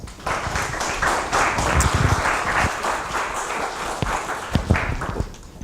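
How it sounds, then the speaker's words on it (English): Lecture audience applauding to welcome a guest speaker to the front, scattered and uneven clapping from a modest crowd with a few sharper near claps and light shuffling, no talk over it. "please give him a round of applause"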